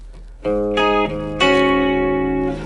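Electric guitar chords ring out through a chorus effect, a few strummed chords sustaining and shimmering one after another, close and clear with no talking.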